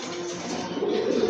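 A pair of large black racer pigeons coos softly at close range, a short, low, rolling call over a light background hum.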